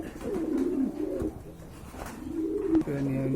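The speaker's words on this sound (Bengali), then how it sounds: "এখানে কিন্তু আরেকটা কবুতর রয়েছে অনেক বড় সাইজের কবুতর" A large pigeon at a pigeon market coos in low, rolling repeated calls close by, with faint voices in the background.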